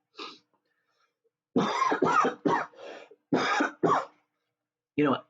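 A short series of close coughs and throat-clearing bursts, several in quick succession after a pause, with no other sound around them.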